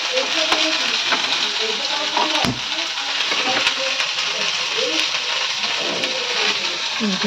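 Potatoes frying in a pan with black cumin tempering, a dense continuous sizzle with occasional stirring scrapes and clicks, close and fairly loud, while a person talks over it.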